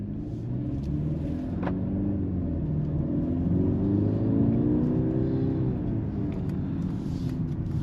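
A 2026 Mercedes GLC 300 SUV's four-cylinder engine pulls hard in sport mode, its steady, close drone rising in pitch as the car accelerates, with no one speaking.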